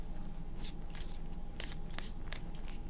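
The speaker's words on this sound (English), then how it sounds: "Two more shuffles." Tarot cards being shuffled by hand during a reading, soft papery riffles and slaps in a few quick bursts, close and quiet over a low steady background hum, with no talking.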